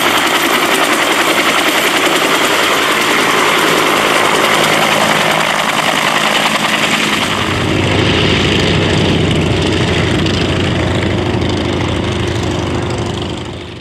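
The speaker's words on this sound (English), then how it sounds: "Here's one of the UH-1s air taxiing down taxiway Alpha with two T-28s in the background waiting their turn to depart." A UH-1 helicopter air taxiing down a taxiway at an airshow: a loud, steady broadband rotor and turbine roar that continues throughout and thickens in the low range partway through, with no talk.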